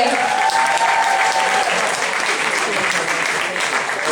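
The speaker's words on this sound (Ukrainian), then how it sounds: "Оплески!" Audience applause at the Mister Charm VNTU 2016 pageant as last year's winner is welcomed on stage, a dense, steady wash of clapping filling the hall for about four seconds.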